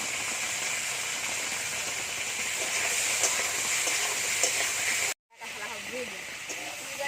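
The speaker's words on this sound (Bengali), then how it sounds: "আলু ভালো করে ভাজা হয়ে গেছে" Potatoes frying in a pan with salt and turmeric, a steady close hiss of sizzling oil running throughout, briefly cutting out near the end before resuming with faint stirring.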